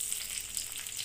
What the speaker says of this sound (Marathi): तेल टाकलं तर कढईमध्ये. आता पहिली मिरची